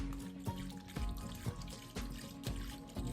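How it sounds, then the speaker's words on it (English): Soy sauce poured over deer meat as a marinade for jerky, a soft trickling liquid sound with rhythmic glugs about twice a second, close and quiet. "so we're gonna pour our soy sauce in there"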